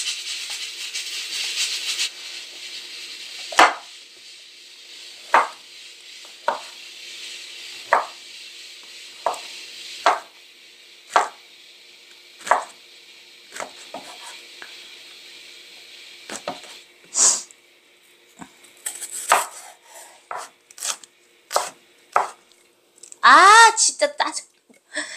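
A knife chops onions on a cutting board in a kitchen, giving a steady series of sharp, distinct knocks spaced about a second apart, with a quicker flurry near the end and a faint background hum.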